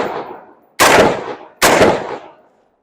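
An affordable rifle fires three loud, sharp shots, evenly spaced about a second apart, each ringing out briefly before the next.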